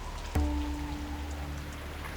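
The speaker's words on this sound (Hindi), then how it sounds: "कसला मेला हा पाऊस" Heavy rain pouring down at home, a steady dense wash of noise that swells in with a sudden low thump and then holds continuous, with a sustained tonal hum running beneath it.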